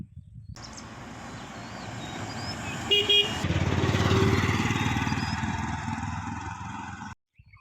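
A motor vehicle passes along a village road, its engine rising to a loud close roar and then fading, with a brief horn toot as it approaches.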